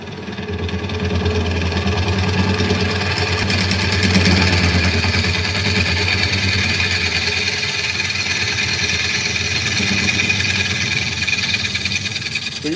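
Wood lathe spinning a bowl blank while a scraper cuts, a steady close mechanical hum with fine buzzing texture running unbroken throughout.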